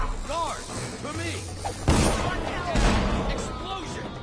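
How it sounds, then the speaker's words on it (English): An explosion goes off amid combat in the stealth action game Dishonored, a loud broadband blast followed by a second burst, surrounded by shouting guard voices and game chatter. "Explosion!"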